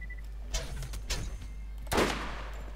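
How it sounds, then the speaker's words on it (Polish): Enemy turret gunner firing in the game Borderlands, delivering a few scattered shots with a heavier burst near the end, set against steady background hum and other game sounds. "O, już nawala ten koleś z działka."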